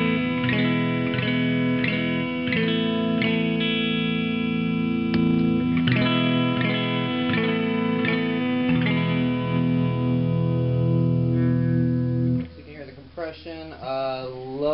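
Clean electric guitar, a Gibson Les Paul through an Orange Squeezer clone compressor pedal into a Twin Reverb amp, plays plucked notes and chords with even, sustained tone, ending with a brief pitch-bending slide.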